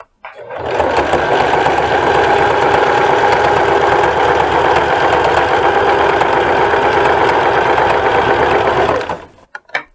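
A sewing machine runs continuously for about nine seconds while stitching the hem of a sweatshirt, a loud, close, steady mechanical whir with a rapid needle rhythm that starts and stops abruptly, with no voices.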